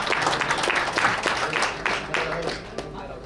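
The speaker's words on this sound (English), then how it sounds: "please give applause for Alam sir." An audience at a live cricket league player auction claps in dense, steady applause, many hands at once at moderate volume.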